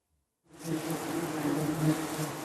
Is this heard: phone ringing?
no